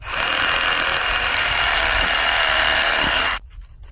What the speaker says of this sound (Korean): 이번엔 나무를 한번 잘라 볼 건데요 이거 좀 짧게 잘라 보겠습니다